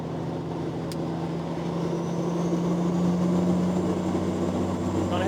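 A Peterbilt 379 truck with a 13-speed transmission drones steadily, its engine pitch shifting slightly as gears change, close and continuous, with someone talking over it.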